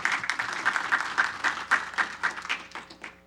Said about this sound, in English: Let's give a round of applause for her to her also.